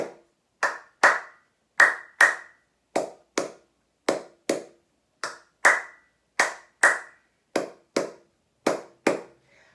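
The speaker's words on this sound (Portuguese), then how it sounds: "Palma concha e palma estrela." Single person's body-percussion hand claps alternating cupped and star claps, the cupped ones duller and the star ones brighter; about two dozen crisp, close claps in loose pairs with silence between.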